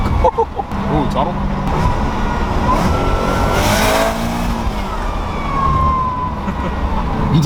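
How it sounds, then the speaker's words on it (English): A car's supercharger whines loudly at close range, rising into a siren-like tone while driving through a tunnel. The sustained wail sits over engine and road noise, with a faint voice underneath. "the way the Supercharger made that sound, it made me panic for a second"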